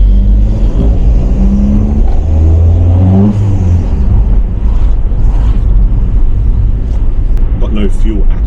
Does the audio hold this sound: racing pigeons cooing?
no